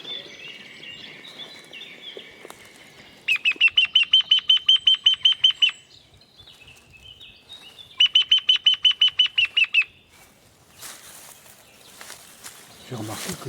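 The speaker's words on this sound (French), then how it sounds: "Ouais, c'est le pic." A woodpecker calling in the sacred forest of La Sainte-Baume: two bursts of rapid, evenly spaced ringing notes, each lasting a couple of seconds, fairly close and loud over quiet woodland with other faint birdsong.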